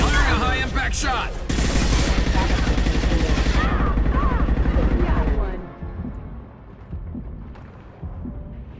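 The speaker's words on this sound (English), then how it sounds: "Firing a high impact shot" High-impact gunshots in Mass Effect 2: a loud burst of rapid, booming gunfire that carries on for several seconds, then cuts off abruptly into quieter game ambience with a few faint thuds.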